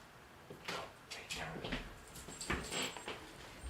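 A dog indoors gives a few soft, faint whimpers and whines amid quiet rustling in the room.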